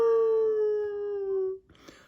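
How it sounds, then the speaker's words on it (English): A single long howl from a dire wolf glides slowly downward in pitch for about a second and a half, clear and resonant, then cuts off into faint rustling. "Another dire wolf howl rang out in the distance."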